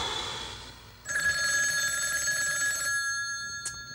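Telephone bell ringing indoors in a basement room: one steady, bright, loud ring lasting about two seconds, close and alone, followed by a faint click.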